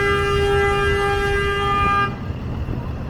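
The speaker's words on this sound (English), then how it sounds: "I'm not sure why that truck is honking at that white Subaru for." A truck sounds one long, loud, steady honk at a white Subaru on busy one-way Wellington Street in downtown Toronto, lasting about two seconds before giving way to traffic rumble.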